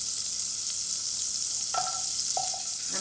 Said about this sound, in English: So I'll start by adding the groundnut oil. I'll add my butter